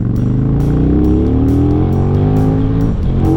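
A loud KTM 1290 Super Duke GT motorcycle engine revving steadily upward, rising in pitch as it accelerates close by on mountain hairpins, with gear-like pulses over a constant roar.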